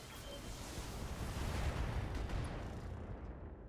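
A dense volley of mech weapons fire from the BattleTech game rumbles for several seconds as a continuous, heavy roar of booming blasts, ending abruptly.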